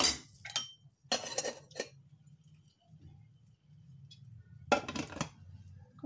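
A metal pressure cooker holding semiya payasam with sugar is being shut, giving several close, sharp metallic clinks and clanks in short bursts with quiet gaps between them.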